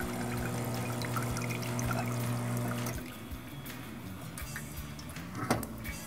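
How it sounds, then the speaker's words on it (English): Water runs through the brew group of a heat-exchanger espresso machine during descaling rinsing, a steady pouring trickle with a pump-like hum that stops midway, leaving quieter dribbling and a few faint clicks. "operate the brew group lever for about 60 seconds in order to rinse the heat"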